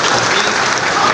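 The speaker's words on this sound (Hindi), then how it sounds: "एक बार जोरदार ताली बजाइए।" Loud, dense applause from a classroom full of students fills the whole moment, a steady wash of many hands clapping at once with no talking over it.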